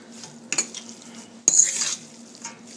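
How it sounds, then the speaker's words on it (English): Pasta aglio e olio with parsley being turned and tossed in a pan, with a soft sizzle underneath and a few sharp utensil scrapes and clatters against the pan. "Turn and toss."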